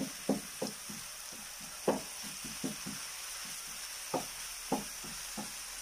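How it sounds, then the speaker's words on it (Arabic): Squid and rice sauté in a pan over lowered heat, a soft continuous sizzle broken by irregular knocks and scrapes of a utensil stirring against the pan, close and fairly quiet. "كنقصو شوية من العافية، نخليوها تتشحر."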